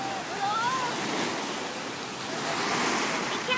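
Ocean waves wash steadily onto a beach in a continuous broadband roar, with a faint voice briefly audible under the surf.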